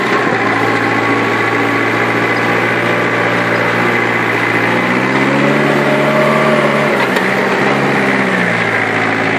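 A Yanmar FX tractor engine with a slipping powershift runs close and loud, its droning note rising in pitch partway through as the throttle climbs, then settling, with no voices.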